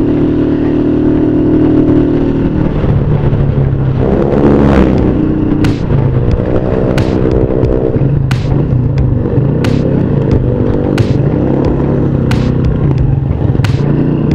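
Engine of a Motoposh Pinoy 125 motorcycle while riding on the road, a steady loud drone with shifting pitch as it revs up and down, punctuated by sharp clicks, with no talking.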